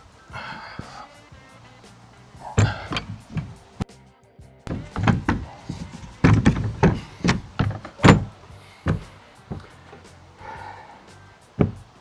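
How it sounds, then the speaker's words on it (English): A freshly built door on a square drop camper being test fitted and swung, with a series of close, loud thunks, clunks and knocks at an irregular pace and no talking. "And that is one door test fit, and it swings."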